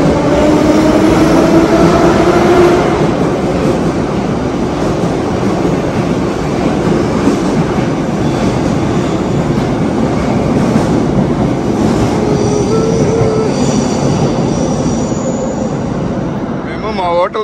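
Saint Petersburg metro train riding toward the airport: a loud, steady rumble and rush of the moving carriage fills the whole stretch, with rising and falling whines of the motors and faint rail clatter, no one talking.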